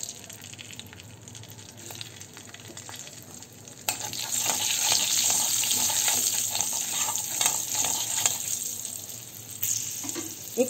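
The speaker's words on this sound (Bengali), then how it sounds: "এবার আমি কড়াইতে কালো জিরে এবং শুকনো লঙ্কা ফোড়ন দেব" Black cumin seeds and dried red chillies sizzle in hot oil in a kadai, with a steady bright crackle that jumps louder a few seconds in and holds, and occasional stirring scrapes.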